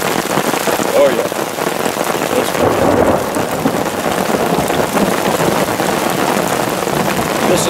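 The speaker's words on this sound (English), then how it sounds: "And the rain's coming down now." Heavy rain pours down steadily outdoors onto a rain catchment setup, a dense continuous hiss with a few louder patters close by, loud throughout and with no talk over it.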